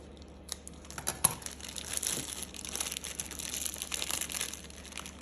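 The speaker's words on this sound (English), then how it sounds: "I've just melted some white chocolate and put it in a Ziploc bag. Just going to cut the bottom off." A Ziploc plastic bag filled with melted white chocolate is cut open at the bottom, giving close crinkling and rustling of plastic with a few sharp snips, alone and continuous.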